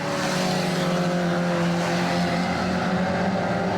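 Ministox stock cars racing around a track on the final lap, a dense continuous engine roar with steady droning tones, loud and sustained throughout, no voices.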